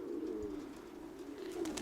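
A female pigeon from a fancier's loft coos softly and low, a drawn-out burbling call repeated close by against quiet background hiss.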